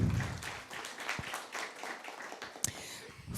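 Applause at a governance internship convocation, a loose, moderately loud patter of hands with uneven bursts and one sharp clap standing out near the end.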